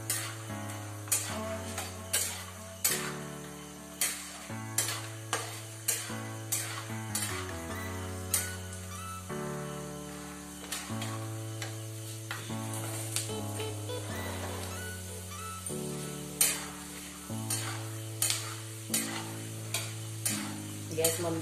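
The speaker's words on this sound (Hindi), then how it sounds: "तेल गरम हो गया है, अब डाल देंगे मूंगफली की गिरी।" Peanut kernels frying in hot oil on a low flame, stirred in a steady rhythm so each stroke brings a scrape and rattle over a continuous sizzle, with a low hum beneath.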